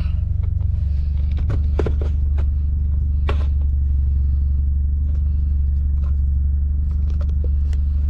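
A 2001 Mazda RX-7 rotary engine runs steadily at close range, a constant low rumble with scattered scrapes and light clicks on top, no talking.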